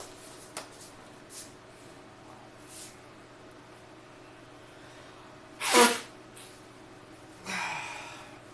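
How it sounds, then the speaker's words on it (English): A single sharp sneeze from a man at a desk, bursting out loud and close over a quiet room, followed a moment later by a softer sniff or exhale. "man, I'm gonna sneeze."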